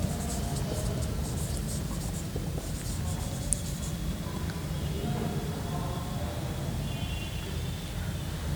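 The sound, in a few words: writing a sentence on a board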